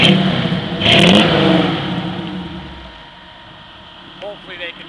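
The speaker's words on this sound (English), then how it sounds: "rev it up once or twice so they can hear the exhaust and what it sounds like" A car engine with a customized exhaust revs up once with a rising roar, then settles back to a low idle rumble, with a few faint voices toward the end.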